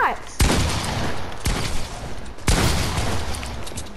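Rapid bursts of gunfire in a Fortnite match, several loud overlapping shots at close range with sharp repeated cracks and no pause between volleys.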